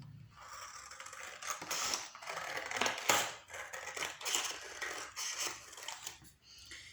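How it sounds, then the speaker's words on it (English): Scissors snip through a pre-made paper craft sheet, cutting it into strips: a run of close, crisp crunching cuts in an uneven rhythm, with no voices. "I'm going to cut it into 10 strips"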